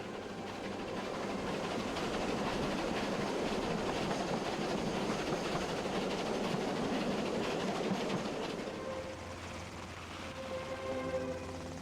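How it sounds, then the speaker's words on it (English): The steam locomotive Taw Valley pulls a train uphill from Petersfield towards Buriton Tunnel, heard as a steady, dense rumble of rolling wheels and working engine that eases slightly near the end, distant and without voices. "here the locomotive toils uphill from Petersfield towards Burriton Tunnel"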